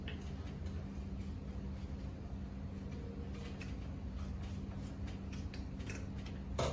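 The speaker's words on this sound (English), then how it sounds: "Let's give this a haircut. The muslin cloth, a nice little cut." Scissors snip through muslin cloth in a series of short, quiet, irregular cuts over a low steady hum, with no talking.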